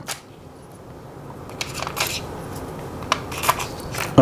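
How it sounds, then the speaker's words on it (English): Batteries being fitted into the battery case of a Canon Power Winder A2 for Canon film cameras: a run of small plastic clicks, taps and rattles, sharper and louder toward the end, close to the microphone. "Just put the batteries in"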